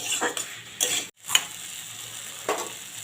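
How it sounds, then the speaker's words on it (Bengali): Fried potato and taro are stirred in a pan with a soft, steady sizzle and a few light scraping stirs. The sound is quiet and close, with no talking. "আলু কচুটা দিয়েও আমি একটু কষিয়ে নেব দু তিন মিনিট ধরে"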